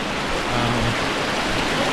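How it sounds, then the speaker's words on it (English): A waterfall on the Colorado River roars as a loud, dense, continuous rush of water, very close and unbroken throughout. "how often do you get to climb up in a waterfall?"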